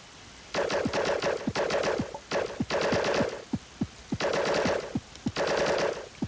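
Rapid bursts of automatic fire from the breaker gun in the platform game I Wanna Be Myself, loud and close, repeating in several quick volleys separated by short gaps and sharp single shots.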